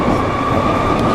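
A small Berlin city train rides along with a steady, loud rumble of rails and carriage noise throughout, continuous and close, with no distinct clacks standing out.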